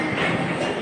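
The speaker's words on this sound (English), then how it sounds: "your express train keeps on rolling through the future" Magic Kingdom PeopleMover cars roll steadily along the elevated track with a continuous broadband rumble, no distinct clacks, heard close and alone for under a second.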